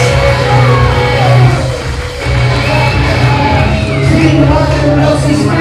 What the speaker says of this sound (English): the crowd here all day has been brilliant